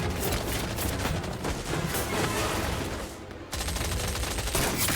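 Gunfire in the video game Indiana Jones and the Great Circle, a dense, continuous barrage of shots with a brief dip midway before resuming at full intensity.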